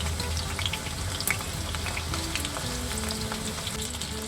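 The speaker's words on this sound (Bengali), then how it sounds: "তেলটা প্রচণ্ড প্রকার হিট হয়ে গেছে। তো দেখো সঙ্গে সঙ্গে দেওয়ার পরেই পুরো এক পিঠ ভাজা হয়ে গেছে" Chicken pieces for chilli chicken fry in very hot oil, a dense, steady sizzle and crackle heard close and continuously, with no talking.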